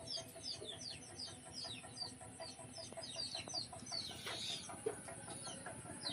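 Chickens cluck and call repeatedly around a balcony in a rainy outdoor setting, the short bird calls fairly close over a steady wash of rain and ambient noise, with no talking.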